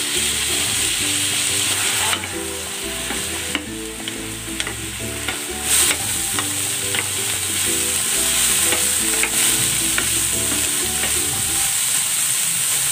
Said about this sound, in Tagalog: igigisa ko na dito itong chicken and pork